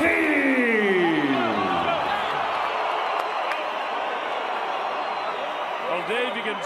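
A boxing arena crowd roars with sustained cheering and whoops at a Mayweather versus Ortiz welterweight title fight, a dense wash of voices filling the space.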